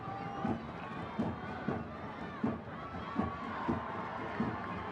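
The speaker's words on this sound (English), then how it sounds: "You can hear that cheer from the Pilots fans trying to beg their team on" Portland Pilots fans at a men's college soccer championship match cheer from the stands with a rhythmic chant, giving regular thumping beats about every second over a steady crowd roar.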